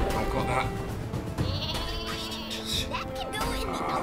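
Cartoonish sheep bleats from the super sheep weapon in the video game Worms W.M.D, heard among busy game music and effects while players talk over it.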